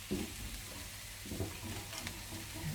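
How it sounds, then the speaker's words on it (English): A pan is scraped round while onions, peppers and garlic fry, giving a steady sizzle with several soft scraping strokes rising and falling over it. "scrape the pan round, and you'll get all the flavour from the pan where the onions and the peppers and the garlic have been in there"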